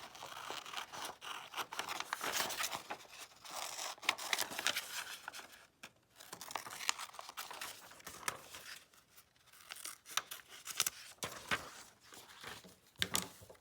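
Scissors snip around a paper shape along straight dotted lines for a classroom 3-D shapes lesson, with steady crisp cutting and paper rustling throughout, close and moderately loud, with a brief pause midway.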